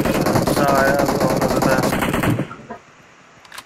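Gunfire in the mobile battle royale game PUBG Mobile: a sustained rapid burst of automatic shots, loud and close, then it cuts off into quieter background with a faint distant shot near the end.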